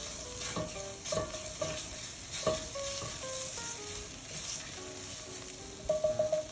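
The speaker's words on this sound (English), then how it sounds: "we're gonna heat up some oil. All right, so I'm gonna go ahead and add my garlic here first" Garlic sizzling in hot oil in a large pan gives a steady, moderately quiet hiss, with occasional light scrapes and taps as it is stirred.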